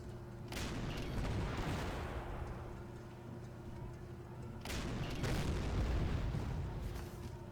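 Artillery fire in a Panzer Corps wargame, two heavy booming volleys a few seconds apart, each a broad rumbling blast that slowly decays, with faint speech beneath.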